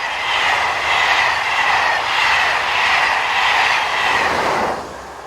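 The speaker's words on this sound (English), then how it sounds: "Heading north is the 1516 Lyon to Paris, powered again at the rear by 1500 volt DC locomotive number 7340." A passenger train on the Mâcon–Chalon main line in France, pushed from the rear by a 1500 V DC electric locomotive, roars past steadily and loudly with no one speaking, then fades sharply near the end.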